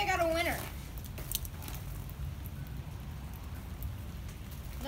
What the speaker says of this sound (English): It's raining so much.